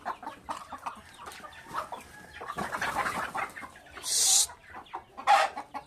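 Several chickens cluck in short, irregular bursts nearby, with a couple of sharper, louder squawks breaking through toward the end.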